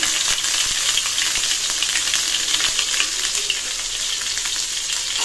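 Ginger paste sizzles loudly in hot oil in a kadai, a close, continuous frying crackle with occasional stirring scrapes and no speech over it.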